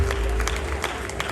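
An audience at a Rwandan wedding celebration bursts into dense, steady applause that sounds close and fairly loud, with crowd noise mixed in and no break through the short burst.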